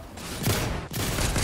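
Video game gunfire comes as two or three loud, close bursts of shots in quick succession, with brief gaps between them.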